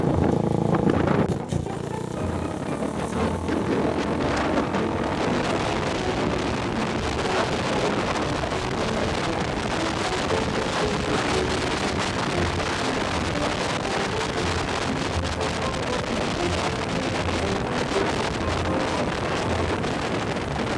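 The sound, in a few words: 400cc motorcycle riding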